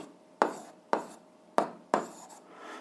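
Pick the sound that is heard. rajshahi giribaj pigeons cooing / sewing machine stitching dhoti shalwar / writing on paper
writing on paper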